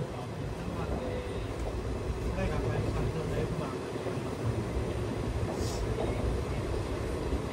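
Passenger coach of the Narasapur–Nagarsol Super Fast Express on the line near Khammam and Mahabubabad, giving a steady close rumble and rattle of rolling stock with continuous broadband noise, heard from inside the carriage.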